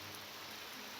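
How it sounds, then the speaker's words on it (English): Rainfall in the game The Elder Scrolls III: Morrowind, a faint, even wash of steady rain noise with no other sounds, heard only briefly. "Oh, it's raining."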